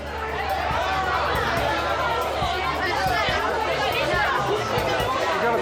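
Crowd chatter in a pedestrian precinct as a motorcycle ambulance pushes through, steady babble of many voices close around with no single speaker standing out.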